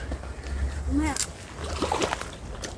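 A man splashes and sloshes in the water at a carp-fishing spot, giving short irregular splashes and gurgles. Voices talk nearby.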